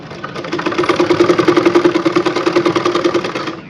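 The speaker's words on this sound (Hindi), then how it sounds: "तो मैं इस पर एक बार सिलाई लगा लेती हूँ ऐसे" A sewing machine stitching along a collar edge, running fast and steady with a loud, even mechanical rattle of rapid stitches, close up and alone.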